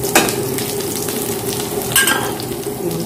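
A ladle scrapes and stirs food in a frying pan over a loud, steady sizzle, with a couple of sharper scrapes standing out, close up and with no talk.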